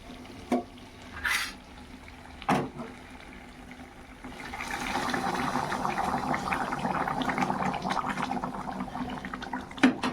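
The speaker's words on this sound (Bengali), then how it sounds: "এবার জলটা আমি মাংসের মধ্যে ঢেলে দেবো" Hot water pours into meat cooking in a pot, a steady watery rush and bubbling at moderate volume lasting several seconds, with a few short knocks before it starts.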